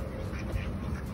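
Hungry ducks quacking while being fed, a quick burst of loud, close calls that fills the short moment.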